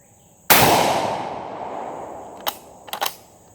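Gunshot strikes a steel gong target at an outdoor shooting range: one loud sharp impact rings out and decays slowly, followed by a few fainter, quicker pings and clanks.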